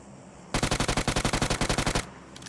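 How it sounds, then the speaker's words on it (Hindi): Rapid automatic gunfire in a shooting video game: one sustained burst of roughly twenty evenly spaced loud shots lasting about a second and a half, standing alone with no talk over it. "तभी ये साइड से फायर आ रहा था"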